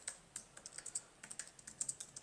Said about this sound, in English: typing words on your keyboard.